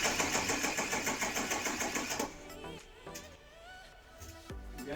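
A Peugeot car engine cranks on the starter with a fast, steady, loud rhythmic churning for about two seconds without firing, while its fuel pump is not running. It then drops to a quiet background with faint rustles and a brief knock.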